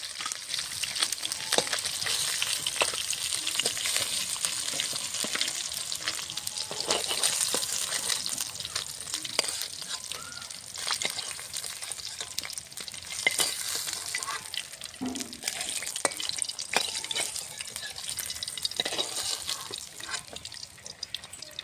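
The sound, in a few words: rupchanda fish frying in oil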